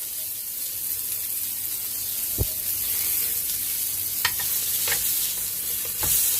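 A hamburger patty sizzling in a frying pan as it is pressed down, a steady close crackle broken by a few sharp scraping taps of a spatula.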